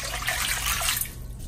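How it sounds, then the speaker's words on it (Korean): Water pours steadily into a bowl to make salted soaking water for manila clams, a close, continuous splashing stream that fades toward the end. "물 1000ml 넣고요"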